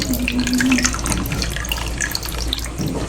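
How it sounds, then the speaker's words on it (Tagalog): Milk pouring into a mixture, a steady splashing, running liquid stream heard close and fairly loud for the whole stretch. "And then lalagyan natin ng gatas. Grabe naman tong butas nitong gatas na to."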